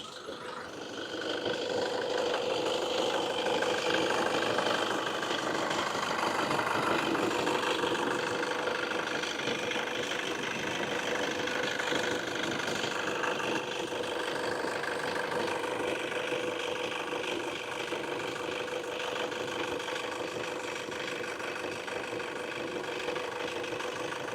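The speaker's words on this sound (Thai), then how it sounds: "ก็ถือว่าเสียงของเครื่องยนต์คันนี้นะครับเสียงค่อนข้างเงียบแล้วก็นิ่มมากๆนะครับ" A Toyota Hilux Tiger 2.5 D4D 4x4 diesel pickup engine idling steadily at close range, a smooth continuous rumble with a faint rhythmic clatter, no voices.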